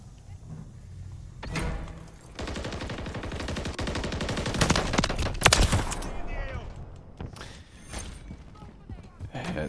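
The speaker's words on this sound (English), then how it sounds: "This gun shoots really slow" Sidewinder gunfire in Call of Duty MW3: a sustained run of repeated shots, loudest in the middle, with players talking over it and game noise around it.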